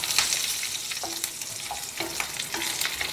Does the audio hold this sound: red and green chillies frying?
yes